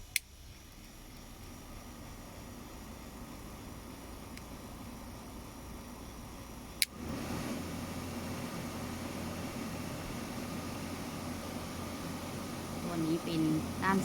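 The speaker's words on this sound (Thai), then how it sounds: "เดี๋ยวเราไปเช็คเสียงมอเตอร์กันค่ะ" A rear air-conditioner blower fan motor in a Toyota with about 238,875 km switches on partway through, its steady whooshing hum stepping up sharply after a quiet airy background, with a click at the start.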